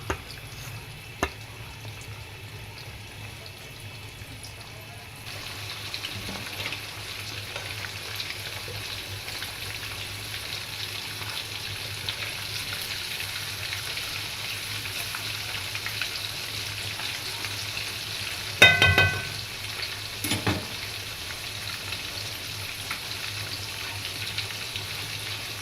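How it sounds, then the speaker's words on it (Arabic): Basmati rice with peas and carrots boiling in a pot on the stove, a steady low bubbling hiss that runs the whole time, with a couple of brief clinks partway through. "الرز بيغلى اهو"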